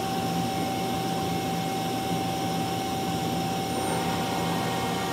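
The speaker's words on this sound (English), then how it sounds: "Run sub spindle." A 2005 Mazak Quick Turn Nexus 250MS CNC lathe's sub spindle runs with a steady, loud mechanical whir and a constant whine, unbroken and free of talk.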